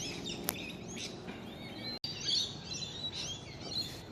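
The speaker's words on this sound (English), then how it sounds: "That's a noisy miner, that little bird." A noisy miner, a small bird, gives a few sharp chirping calls close by, with brief bright notes scattered over a quiet outdoor background.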